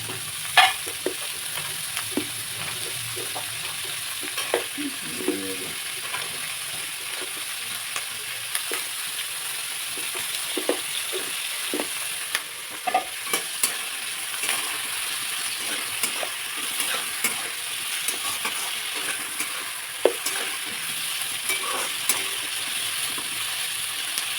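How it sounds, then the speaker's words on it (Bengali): Rice fries in a pan while being stirred, a continuous soft sizzle broken by frequent close scraping and clinking of the spoon against the pan, with no talking. "ভাতটা ভাজা ভাজা হবে"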